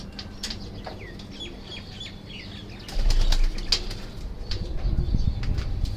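A female Teddy pigeon flaps its wings in a short, loud burst as it is let go inside a cage, against a background of chirping birds.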